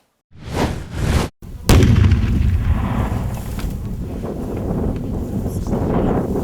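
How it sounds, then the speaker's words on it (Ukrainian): Two loud booming blasts in quick succession, then a sharp crack followed by a long rumbling roar, heavy and buffeted like wind on the microphone. "Потужні вибухи їх не лякають."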